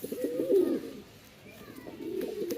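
A male pigeon coos in low, throaty, rolling phrases near the hens, close by and fairly soft, with one long coo followed by a quieter pause and another coo.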